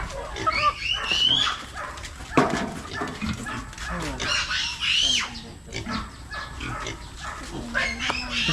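Pig being collected for a baptism feast, its squeals and grunts rising in bursts amid a busy scene with dogs yipping and people talking throughout.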